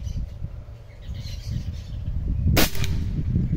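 A single shot from an R8 .25 (6.35 mm) air rifle firing a heavy slug, one sharp crack standing out against an outdoor background with faint bird chirps.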